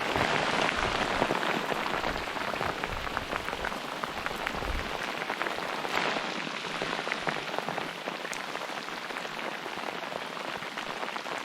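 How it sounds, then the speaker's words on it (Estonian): Steady rain falls on surfaces outdoors during a fishing trip on an Estonian summer day, a dense, continuous patter at constant loudness with no talking. "Jälle sajab kenasti."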